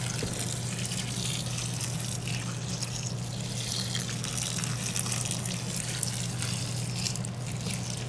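Water poured onto coco coir substrate being prepped as reptile bedding, a steady close trickling and splashing flow with a low constant hum underneath, no voices.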